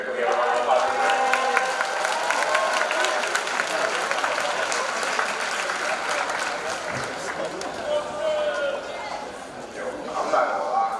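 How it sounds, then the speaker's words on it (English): Audience applause at a high school Black History Month assembly, steady sustained clapping from a large crowd filling the room for the whole stretch, with some voices mixed in. "Can we have a round of applause for that?"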